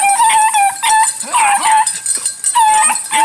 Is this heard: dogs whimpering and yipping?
yes